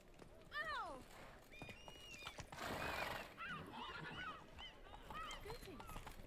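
A horse in The Witcher 3: Wild Hunt neighs in several high, wavering whinnies with hoof clops underneath, loud and close, with a brief voice in between.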